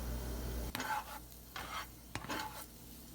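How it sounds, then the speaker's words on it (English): Green onion and garlic stirred in an oiled pan, with a few distinct scraping strokes of a utensil over a soft background sizzle, close and fairly quiet. "we're going to cook the green onion and garlic first"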